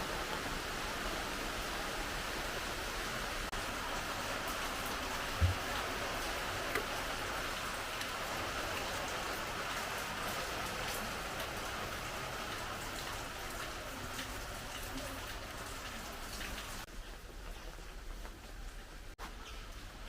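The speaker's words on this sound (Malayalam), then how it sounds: "സൂപ്പർ മഴയാ" Soft, steady rain hisses continuously at a low level, heard from a little distance, with no one speaking.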